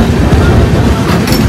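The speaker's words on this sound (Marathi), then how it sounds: "आता ट्रेन जाम रफ्तारच्या चालले" A train heading to Ayodhya runs at high speed, heard from on board as a loud, continuous rumble and rattling roar that fills the whole moment, with a faint rhythmic clatter of wheels.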